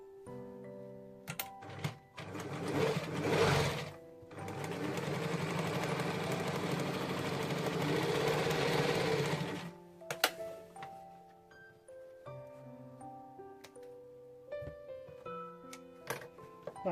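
A sewing machine stitches Ankara and lace gown fabric in bursts: a short run, then a steady whirring stretch of about five seconds, followed by quiet clicks and handling sounds.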